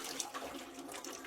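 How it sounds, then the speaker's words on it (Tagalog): Water pours steadily for a bath, a continuous broadband splashing rush with no talk, fairly close and moderately loud throughout. "Sabi nila, kapag unang buhos daw, malamig."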